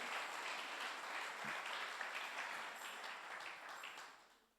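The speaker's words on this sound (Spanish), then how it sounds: "Si tenéis fe, pues da un aplauso al Señor." A church congregation claps together in a steady, fairly soft round of applause that heard from a distance runs a few seconds before tapering off at the end.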